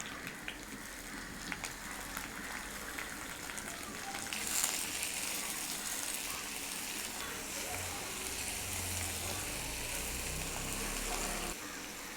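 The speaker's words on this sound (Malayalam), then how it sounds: "തേങ്ങ, സവാള ഇട്ട് വശക്കാം" Grated coconut and onion sautéing in a pan for a yam masala, a soft steady sizzle running throughout, quiet and close, with faint stirring scrapes and no talk.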